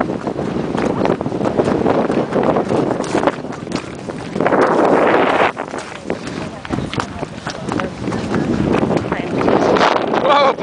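Steady wind buffeting the microphone with loud, gusty rumble throughout, broken by a few thumps and shuffling movement, in the woods.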